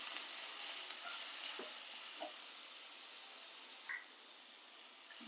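Crushed green chili and garlic fry in a hot pan with a steady, close sizzling hiss, broken by a few soft stirring scrapes and taps.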